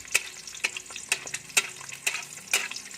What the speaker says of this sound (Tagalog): Halagyan natin ng mantika sa top para maluto yung egg yolk